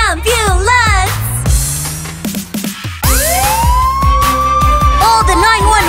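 A cartoon ambulance siren from a children's rescue-team song, its rising and falling wail sounding loud and close among music and sung vocals, then a long sweeping tone near the middle.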